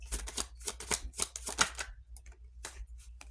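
Tarot cards are shuffled close by in a quiet room, giving quick, soft, fluttering riffles and taps in rapid irregular bursts.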